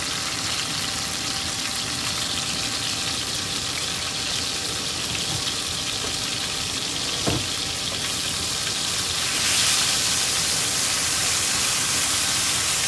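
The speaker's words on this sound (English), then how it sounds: "I've got this on high. So we can toast up this garlic and get this oil infused with" Two heaping tablespoons of minced garlic toast in oil over high heat for sautéed cabbage, giving a steady, even hiss of sizzling throughout, with one brief knock partway and the frying growing slightly brighter toward the end.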